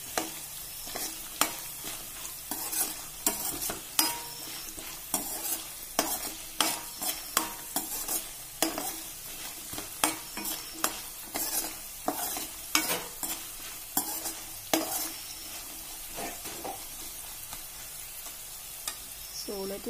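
Groundnuts frying in a pan for sevai upma while being stirred, a soft steady sizzle broken by repeated scraping and clinking strokes of the spoon at an uneven rhythm, no talking.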